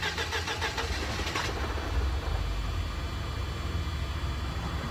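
A Mercedes-Benz 190E with a starting problem cranks with a rapid rhythmic whir for about a second and a half, then catches and settles into a low, steady idle nearby.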